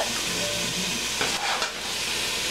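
Browning beef sizzles steadily in a stew pot as garlic powder is stirred in. The frying hiss stays loud and constant, with a brief rise in scraping partway through.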